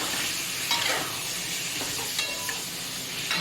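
Pork adobo sautés in a hot pan with a steady, close sizzle and occasional stirring scrapes, no voices.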